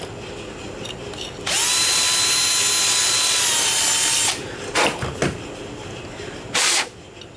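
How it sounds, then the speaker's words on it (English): A power drill hones out a bolt hole during a PCV valve repair on a Cadillac CTS, a loud, close whir held for about three seconds, then a few short bursts, clatters and knocks. "I'm going to go ahead and actually hone this out just a little more because it's kind of catching."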